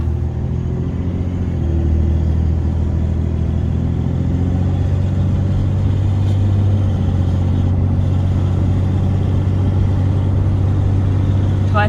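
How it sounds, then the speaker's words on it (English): Turbo diesel engine of a 2003 Dodge Ram 2500 pickup while driving, a steady low droning rumble from inside the cab, constant and fairly loud throughout with no pauses. "this is the turbo diesel, which if you didn't know that, you should have known that just from hearing it"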